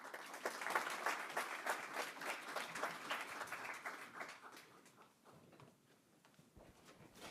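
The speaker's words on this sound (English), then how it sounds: "Round of applause." Moderate audience applause at a family information night, a crowd clapping steadily before tapering off into a quieter room.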